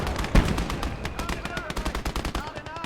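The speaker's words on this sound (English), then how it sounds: "Machine guns are here." Rapid machine-gun bursts in the war game Legion of the Damned, a steady chatter of close, loud shots with one heavier blast near the start and voices mixed in underneath.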